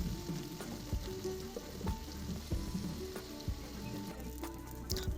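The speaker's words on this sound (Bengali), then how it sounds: "প্রথমে উচ্ছেগুলো ভেজে নেব।" Bitter gourd pieces fry in hot oil with a steady, loud sizzle throughout, broken by regular clicks of stirring; no one speaks.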